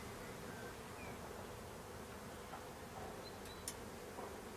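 A honeybee swarm clustered on a branch during a spring swarming: a dense, steady buzzing drone, close and continuous, with faint ticks of individual bees passing.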